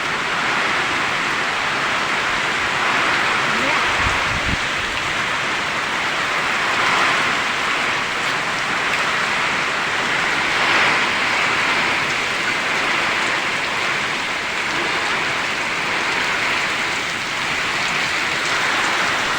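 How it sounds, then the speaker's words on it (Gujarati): Heavy rain pours down on a farm during a windy storm, a dense, unbroken hiss of drops close by that holds steady throughout. "જોરદાર વરસાદ પડે મિત્રો, ને પવન છે"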